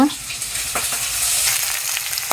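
Bola fish sizzling as it fries in a pan, a steady close hiss with faint crackles for a couple of seconds and no voices.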